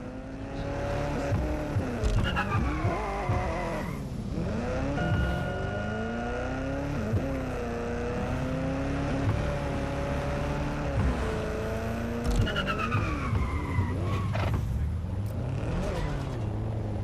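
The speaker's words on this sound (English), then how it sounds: "I like the skidding sound that these cars make." Car engines rev and whine continuously while tires squeal in sharp bursts in the video game Watch Dogs: Legion, with pitch sweeping up and down as the vehicles race and turn.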